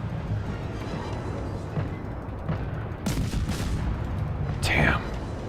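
Ship guns firing HE and AP rounds in a naval video game, with muffled booms and a couple of sharp bursts of gunfire standing out over a low rumbling battle background.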